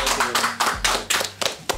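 A few people clap in a loose rhythm, about seven or eight sharp claps close by, with voices talking over them in a studio setting.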